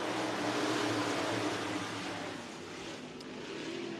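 IMCA Northern Sport Mods race a heat at Deuce of Clubs Thunder Raceway in Show Low, Arizona, their engines merging into a loud, steady, broadband roar of a pack on track that eases slightly midway and builds again.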